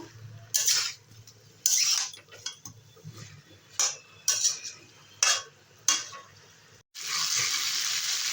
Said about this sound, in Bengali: যেটুকুন ঝোল আছে নেড়ে চেড়ে শুকিয়ে নেব